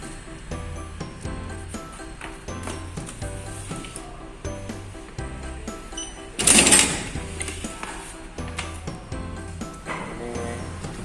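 Electric multifunction booklet maker running while it staples and folds, a rapid steady mechanical chatter and whir with a repeating low thump, interrupted by one brief loud hissing clack midway before the rhythmic running resumes.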